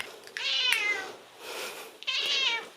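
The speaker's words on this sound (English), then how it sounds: "my cat is just outside" A house cat just outside meows twice, drawn-out plaintive calls with a softer murmur between them, close and clear with no talk.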